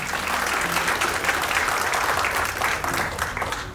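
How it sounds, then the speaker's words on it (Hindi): An audience at a Laila Majnu storytelling fan meet breaks into loud, dense applause, a continuous roar of many hands clapping close by for the whole stretch. "एक बारी मुनीम जी अलिफ के लिए एक बारी जोर से ताली बजाएंगे यार"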